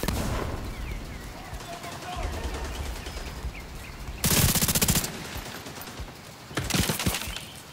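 Automatic weapon fire in the video game The Division 2, mostly distant rattling bursts, then two louder, closer volleys of rapid shots.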